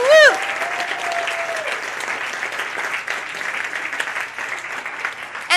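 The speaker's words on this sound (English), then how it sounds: "please stand up, co-authors, and get a big round of applause." Audience at an awards gala keeps clapping steadily after a short whooping cheer at the start, with the applause running on at an even level.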